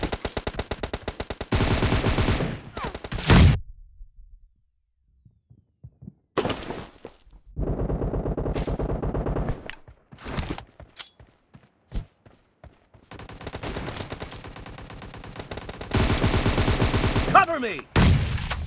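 An M762 rifle fires in long automatic bursts during a team deathmatch in a mobile shooter game. Loud rapid volleys alternate with short gaps and scattered single shots.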